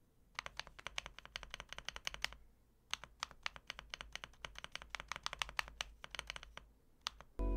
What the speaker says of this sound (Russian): давайте послушаем, как звучит этот пробел